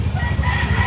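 A rooster crows loudly and close by at a busy market in Carbon, Cebu, a single sustained call filling the short moment.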